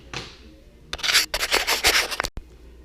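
A hand file rasps across chainsaw chain teeth, working the gullets and cutting points in a series of short, close, gritty strokes separated by brief pauses.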